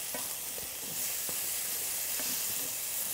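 Browned bits are scraped from the bottom of a pan holding sizzling carrots and garlic, with steady frying hiss and a few soft scraping strokes close by.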